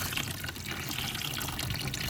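A garden hose fed from a home water supply runs steadily into an outdoor mud kitchen sink, giving a continuous close gushing and splashing with no talking over it.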